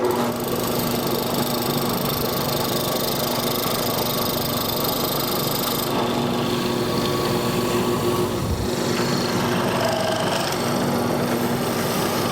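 A drill press with a mortising attachment drives its chisel into wood, a loud, continuous motor whine and grinding cut that shifts in tone partway through, with no voices.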